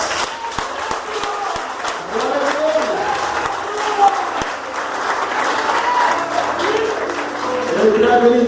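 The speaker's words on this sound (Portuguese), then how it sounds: "Pode aplaudir a Jesus." A church congregation claps steadily through a service at a house of prayer, continuous dense applause with a voice rising above it and faint sung tones underneath.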